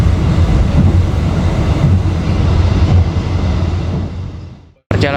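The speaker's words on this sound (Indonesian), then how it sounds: "Perjalanan kereta api Majapahit saat ini masuk di stasiun Bekasi." The KA Majapahit train pulls into Bekasi station with a loud, close, continuous rumble and rattle of wheels on rails that fades away near the end before a brief sharp sound.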